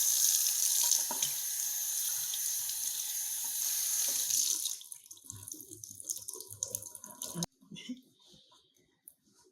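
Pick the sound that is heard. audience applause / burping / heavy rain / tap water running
tap water running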